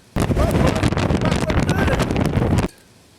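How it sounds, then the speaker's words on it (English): Strong wind roars and buffets against tent fabric close by while camping in the Cairngorms on a rainy day, loud and gusty, then cuts off abruptly into near silence. "It's a well windy day outside."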